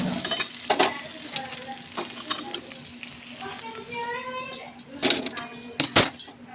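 Fried snake gourd is stirred in a hot pan, giving scraping, clattering strokes over a steady low sizzle, with louder knocks near the end and a voice talking intermittently.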